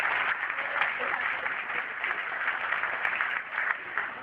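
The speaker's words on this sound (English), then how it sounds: "Please clap." Steady audience applause at an awards event, a dense even patter of clapping that holds for several seconds without pause.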